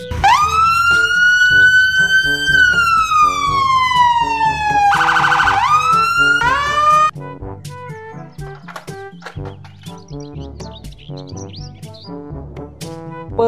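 A police car siren wails loudly, rising and falling before a rapid yelping burst, then stops, giving way to quieter clicks and rumbling.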